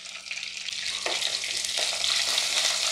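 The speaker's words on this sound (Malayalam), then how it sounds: "നന്നായിട്ടൊന്ന് ഇളക്കി കൊടുക്കാം" Garlic paste and curry leaves frying in a pan, stirred throughout, for a drumstick masala curry; a steady close sizzle with a few scraping stir strokes and no voices.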